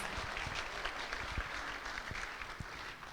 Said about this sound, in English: So let's give Her Grace Gaura Bhumi Devi Dasi another round of applause.